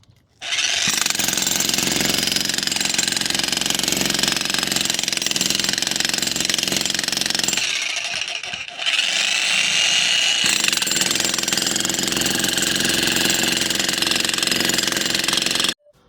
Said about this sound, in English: I got to say, the jackhammer is doing its job.